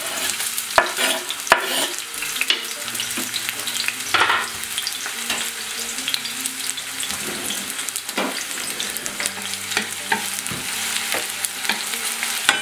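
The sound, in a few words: onions frying in a pan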